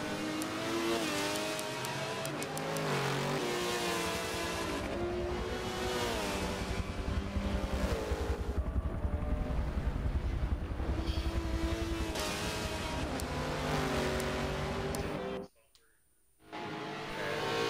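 GT race cars, among them a McLaren, race at Bathurst in a sim racing event, engines roaring and shifting through gears continuously, with commentary running underneath and a brief near-silent gap toward the end.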